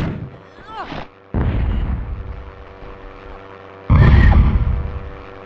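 Torpedoes launching in the Hogs of War video game, heavy booming blasts in separate bursts with a hum between them, the loudest near the end, alongside spoken game dialogue.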